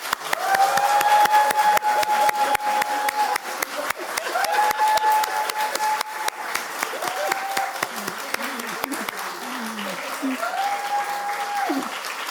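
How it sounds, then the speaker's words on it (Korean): A church congregation of children and adults clapping loudly together at a Sunday service, sharp rapid hand claps forming a continuous crackle while a voice sings or calls out intermittently over it. "우리 이제 박수를 칠 건데 박수 소리가 커야 전달이 돼요."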